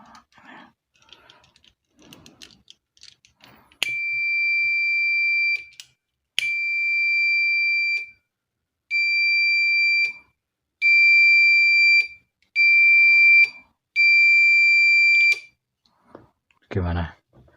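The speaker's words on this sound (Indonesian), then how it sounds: "Ini sensornya, perhatikan LED di sini, suara buzzer dan suara relay." A homemade fire alarm buzzer, set off by a flame sensor with a relay, sounds six loud steady beeps of about one to two seconds each in a regular sequence, with faint background noise before and a brief clunk at the end.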